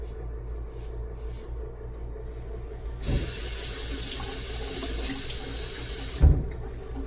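A tap is turned on for rinsing during a head shave. After a few seconds of low hum the water gushes in a steady, close stream, then stops with a sharp clunk near the end.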